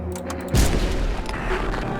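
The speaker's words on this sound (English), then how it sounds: "I'm just gonna shoot you." A single heavy gunshot booms in the horror video game No, I'm not a Human, a loud close blast followed by a rumbling decay over low ambient game sound.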